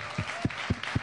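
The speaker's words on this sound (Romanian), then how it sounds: "Aplauze!" A studio audience on a Romanian entertainment show gives a brief burst of applause, four distinct loud claps spaced evenly within about a second.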